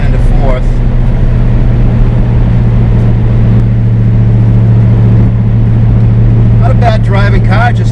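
A Fox Body Mustang 5.0 notchback pulls uphill with a steady, loud low engine drone under throttle, while a person talks over it at the start and end.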